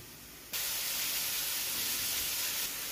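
Sucuk frying in oil in a pan, a loud, steady broadband sizzle that bursts in suddenly after a quieter start and holds evenly to the end with no talking.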